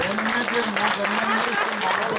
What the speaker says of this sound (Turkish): çok kuvvetli alkışlarla Selahattin Bölükurt.